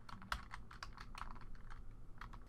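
Quick, close keystrokes on a computer keyboard in an irregular typing rhythm, a dozen or so clicks over a couple of seconds with no voice, against a faint low hum.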